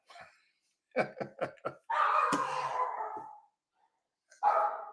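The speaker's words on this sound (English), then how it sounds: "The GB stop barking, you get fed, so shut the hell up" A dog lets out a quick run of four or five sharp barks, followed by a longer drawn-out sound and another short burst, all close and loud against otherwise quiet surroundings.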